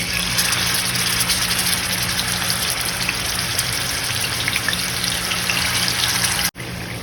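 Marinated chicken fries in hot oil for biryani, giving a continuous loud sizzle and crackle. It runs unbroken for about six seconds, then cuts out abruptly and resumes.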